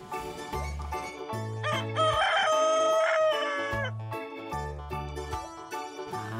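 A rooster crows loudly twice in Jurassic World Evolution 2 over a bright, synthetic game-style musical backdrop with steady electronic tones.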